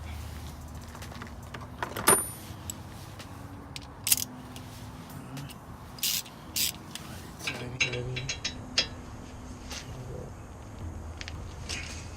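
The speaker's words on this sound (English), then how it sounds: "I just try to tighten it up. Remember, you need a 19mm socket." Ratchet fitted with a 19mm socket tightening a brake caliper on a 2007-2013 Acura MDX SH-AWD, with short bursts of clicking pawl strokes spread over the clip, close by and fairly quiet, with clinks of metal in between.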